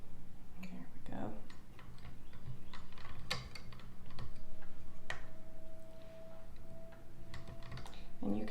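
A fabric pleater turns in close, irregular cranking clicks and ticks as fabric feeds through over a dowel, with a faint hum underneath.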